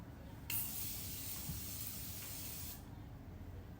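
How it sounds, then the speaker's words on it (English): Makeup setting spray hisses out in one continuous burst of about two seconds, close and soft against a quiet room. "Don't forget to apply your setting spray."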